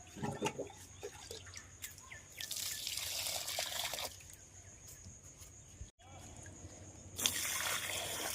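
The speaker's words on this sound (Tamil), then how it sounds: "நம்ம செடிக்கு தண்ணி கொடுத்துட்டு" Water splashing and trickling onto a potted rose plant during watering, coming in broad hissing bursts with quieter dripping between them, steady and close, with no voices.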